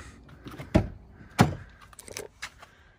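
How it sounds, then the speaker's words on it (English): A car door opening, heard as two sharp, loud clunks and latch clicks followed by lighter rattles and handling noises, close by with no talking. "I'll open the door and show you."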